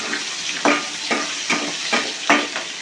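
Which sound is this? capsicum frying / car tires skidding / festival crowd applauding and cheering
capsicum frying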